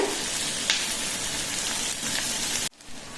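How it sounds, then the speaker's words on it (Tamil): Onions sautéing in a pan for South Indian coconut kurma make a steady, even hiss of frying that cuts off abruptly near the end. "வெங்காயம் நல்லா வதங்கிடுதுங்க."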